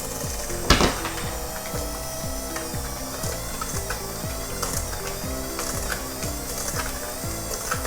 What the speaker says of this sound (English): on this machine and mixing the sugar and the butter